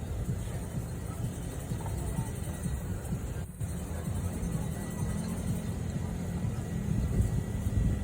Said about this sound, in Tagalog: Mga motor dito guys, grabe guys.